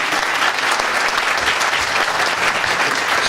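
A crowd claps loudly for a man's wife at a Brookhaven birthday celebration, thick continuous applause close and full throughout with no break.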